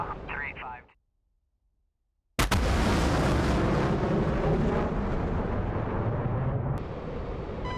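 Missiles fire from an F-22 jet in a combat flight video game: after a brief voice and a short silence, a sudden loud blast opens into a sustained roaring rush that slowly fades.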